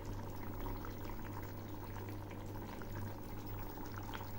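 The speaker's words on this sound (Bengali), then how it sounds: "রান্নাটা হতে বেশ কিছুটা সময় লাগবে, কারণ এই মাছগুলো সেদ্ধ হবে" Raw puti fish simmer in a pot, a soft, steady bubbling hiss over a low constant hum, faint and unbroken for the whole stretch.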